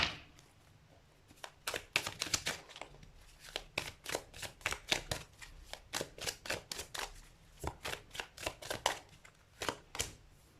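Tarot cards being shuffled in quick, crisp bursts of riffling and slapping, repeated rhythmically throughout, close and clear with no talking.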